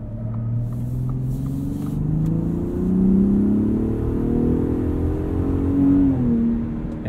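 A 2021 Ford F-150 Raptor 4X4 SuperCrew pulls away under acceleration, its engine note rising steadily and holding as the 10-speed automatic keeps the gear. The engine drone is heard from inside the cab, with a low road rumble and no talking.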